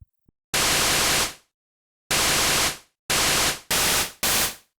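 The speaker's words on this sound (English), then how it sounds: "maybe we'll use the looped white noise" Looped white noise from a synthesizer patch for a riser comes in loud, even hissing bursts: one long burst, a gap, then four more, each cut off sharply with a brief fade, after a couple of tiny clicks.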